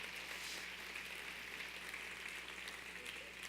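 A church congregation claps in praise, a faint, even spread of applause that carries on steadily throughout with a low background hum underneath.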